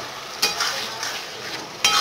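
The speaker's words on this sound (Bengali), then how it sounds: "এইবারে লো হিটে রেখে মশলাটা আমি কষিয়ে নেব" Spice paste with chopped tomatoes and salt sizzles steadily in a pan over low heat, with two brief, louder scrapes of a spoon stirring through it, near and alone without talk.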